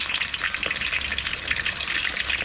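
Pork belly deep-frying in hot oil for Thai crispy pork gives off a steady, dense crackling sizzle that stays close and even throughout, with no voices.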